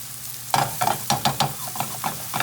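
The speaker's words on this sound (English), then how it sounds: "What I'm doing is just trying to get like an even layer so that mushrooms are maybe even getting a little bit of a toast." Mushrooms frying in a pan for an Italian egg drop soup: a soft sizzle under a series of stirring scrapes and taps, about eight of them in quick uneven succession.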